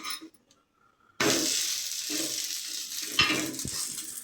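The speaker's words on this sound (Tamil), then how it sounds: "இப்போ தோசை போடுறோம்." Dosa batter for mudakkathan dosa hits a hot griddle with a sudden loud sizzle that holds steady and close, with a few clinks and scrapes from utensils, preceded by a short quiet stretch.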